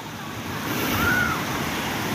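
Water pours down from a large spring in the Kashmir hills as a steady, broad rushing wash. It grows slightly louder partway through and carries on without a break.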